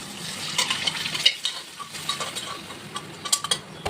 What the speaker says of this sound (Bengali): একটু বাদে ঝোলটা ফুটে নেবে